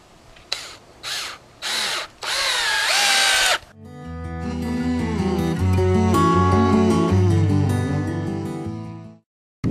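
A power drill whirs in several short bursts while drilling anchor points in greenhouse baseboards, then runs in one long, loud, close whine that slows and stops.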